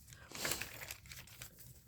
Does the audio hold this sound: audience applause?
no